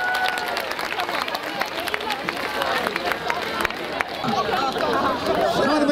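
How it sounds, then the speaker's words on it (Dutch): Festival audience clapping at the Strandwal beach festival, crisp claps scattered across the crowd and mixed with murmuring chatter, growing slightly denser toward the end. "Dames en heren, mag ik een applaus voor deze?"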